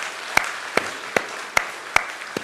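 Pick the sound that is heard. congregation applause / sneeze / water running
congregation applause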